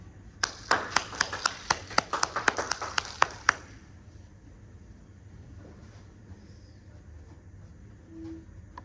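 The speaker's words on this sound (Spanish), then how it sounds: "recibamos con un fuerte aplauso" Brief applause from a small lecture audience welcoming a speaker at a robotics talk, a few seconds of distinct close handclaps that die away into a quiet room.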